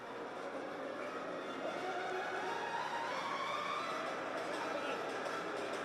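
Train in motion, probably a locomotive with ditch lights on, making a steady rumbling rail noise that holds at an even level throughout, with no clear voices.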